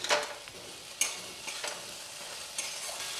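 Mustard and poppy seed paste frying over high flame in a pan with okra, a soft steady sizzle broken by a few brief stirring scrapes, close and fairly quiet with no talk.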